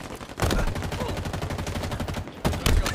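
Rapid automatic gunfire in a shooter video game, loud and sustained bursts across the whole stretch, with heavier shots punctuating near the start and end.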